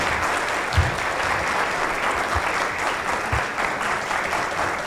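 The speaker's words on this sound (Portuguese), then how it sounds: "um forte aplauso para os nossos dois apresentadores aqui" Sustained applause from a room full of people for two presenters at a lecture, dense and steady clapping at an even level throughout, with no talking over it.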